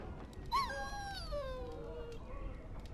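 A dog in the video game Dragon Age: Origins lets out a single drawn-out whimpering whine that slides slowly downward in pitch, heard clearly over a low, steady background hum.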